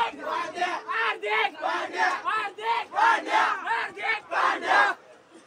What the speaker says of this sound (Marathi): तो मंडळी ट्रेन मध्ये सगळं जल्लोष चालू झालेला आहे.